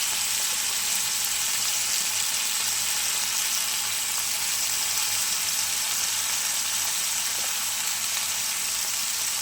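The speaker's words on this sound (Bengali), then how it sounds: "আর একটু কষিয়ে নেবো মানে ভেজে নেবো মেটে আলু" Mete alu (yam) pieces frying in a pan with salt and turmeric: a dense, even hiss of sizzling oil, close and steady throughout, with no voice over it.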